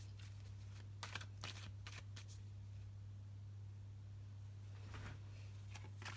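Tarot cards being shuffled by hand at close range, with several bursts of riffling and rustling over a steady low electrical hum, separated by quieter pauses.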